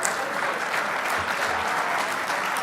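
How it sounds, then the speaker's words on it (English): Steady applause from a banquet crowd at a 1/10-scale RC car racing world championship awards ceremony, many hands clapping evenly throughout at moderate loudness. "big round of applause for your junior champs,"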